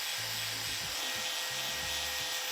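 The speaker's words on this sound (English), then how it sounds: "I'm gonna try the angle grinder, but I'm gonna do it really carefully so I don't kind of mess it up." An angle grinder grinds an old hammer head with a loud, continuous high-pitched whine and harsh grinding, the motor pitch dipping and rising as the tool bears on the metal, close and alone.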